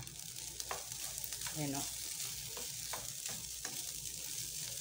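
Garlic fried rice (sinangag) frying in olive oil with steady close sizzling and scraping stirs, a brief voice speaking once over it.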